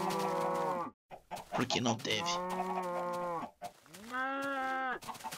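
Cattle in the game Minecraft: several drawn-out moos, one after another with short gaps, loud and close, with a brief spoken line between them.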